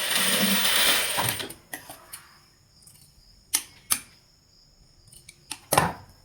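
A sewing machine stitching a saree pleat, opening with a brief whirring rush of mechanism noise and then settling into scattered sharp mechanical clicks and ticks, close and moderately loud.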